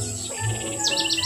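A small bird chirps outdoors at a tree-planting site, a few quick high tweets that are fairly close and clear over a low background hum, with no talk.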